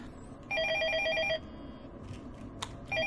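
An in-game telephone in Night Shift at Freddy's rings in two electronic trills, one long burst and then the start of another, over a low ambient hum.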